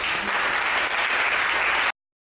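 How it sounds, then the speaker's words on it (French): A church congregation gives a burst of dense, loud applause that fills the space evenly and then stops abruptly. "Acclamez le Seigneur pour nous."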